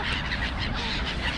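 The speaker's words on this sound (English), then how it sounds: "you can't feed this amount of seagulls here" A large flock of seagulls on a sidewalk, calling and squawking in a dense, continuous clamor close by.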